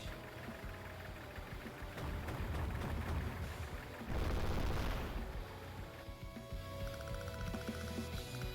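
Anti-tank unit firing on artillery in Advance Wars: Days of Ruin, a dense, continuous stretch of gunfire and booming impacts with a louder burst near the middle, set against game music.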